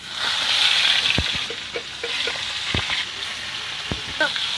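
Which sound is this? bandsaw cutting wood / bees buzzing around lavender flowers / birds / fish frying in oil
fish frying in oil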